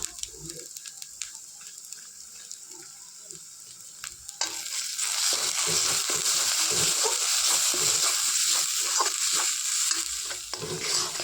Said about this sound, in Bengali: এরকম মশলাটা আমার সম্পূর্ণ ভালোভাবে কষা হয়ে গেছে